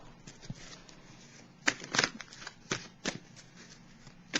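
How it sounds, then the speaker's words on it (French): An oracle card deck is shuffled up close before one card is drawn, a run of crisp riffling bursts and soft card slaps in an irregular rhythm, heard alone without any voices. "Je vais piger une carte de l'oracle de l'âme intuitive"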